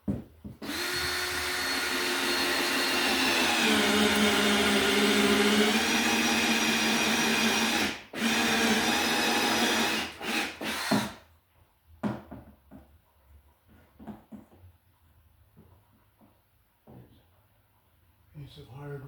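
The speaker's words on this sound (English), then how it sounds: "So I'm going to drill it about right." A power drill bores through hardwood for electrical wiring, running loud and steady for several seconds with a pitch shift midway, then cutting out, followed by someone speaking with a few scattered clunks.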